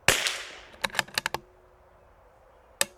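A CZ457 rifle fires one sharp shot at a target, followed by a quick run of metallic bolt clicks and then another brief sharp crack near the end.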